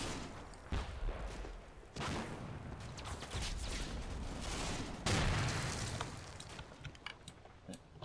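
Artillery barrage in the WWII strategy game Combat Mission Final Blitzkrieg, Stavelot battle: a steady rumbling bed of distant shell bursts and scattered gunfire, with heavier booms landing around one, two and five seconds.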